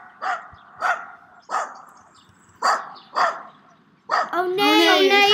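A dog barks in spaced single woofs outdoors in the snow, five or six sharp barks, before children's excited voices break in loudly at the end.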